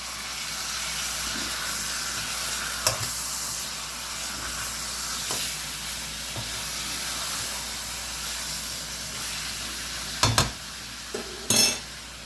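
Chicken pieces browning in hot oil in a pan for orange chicken, a steady soft sizzle and hiss broken by a few sharp scrapes and clatters as the meat is stirred and pushed around.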